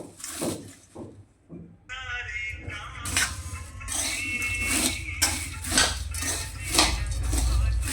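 Spoon and bowl clatter as potato wafer chevdo is tossed with tomato powder and dry mango powder, a steady crisp rustle punctuated by repeated scraping and clinking strokes, close and fairly loud.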